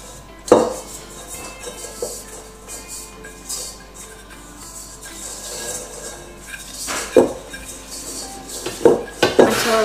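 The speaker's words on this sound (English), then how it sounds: "I'm gonna get some oil and put about a tablespoon all around the bowl." Oil being wiped around a bowl for pretzel dough, heard as scattered clinks and knocks of dish and utensil against the bowl, with louder clatters near the start and end over quiet rubbing.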